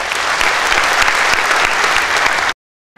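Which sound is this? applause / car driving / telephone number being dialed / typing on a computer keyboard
applause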